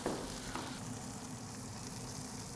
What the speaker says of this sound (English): These shallots that have kind of worked their way off the side of the patty, they're just frying in beef fat right now.